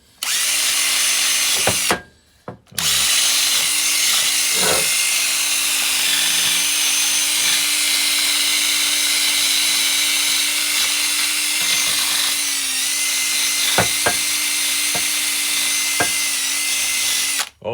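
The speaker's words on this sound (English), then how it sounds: "when you use the drill like this" Power drill running steadily to strip rust from a vintage circle cutter before primer, a continuous close whine with a brief stop near two seconds and small clicks and scrapes from the wire brushing.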